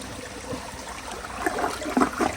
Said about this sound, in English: So here's another flush.